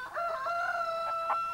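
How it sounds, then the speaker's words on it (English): A cockerel crowing on a farm, one clear, drawn-out crow with a steady pitch, heard alone at moderate distance. "And what's the meaning of the cockerel's crow?"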